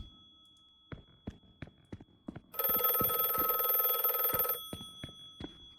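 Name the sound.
telephone ringing in video game The Last Case of John Morley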